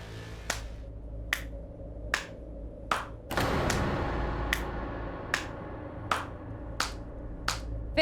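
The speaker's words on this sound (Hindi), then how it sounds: "सॉरी मैंने ऐसे तालियां बजाई" One person clapping slowly and sharply, about a dozen evenly spaced claps with a swelling dramatic music sting underneath, in a wedding-related scene of a TV drama.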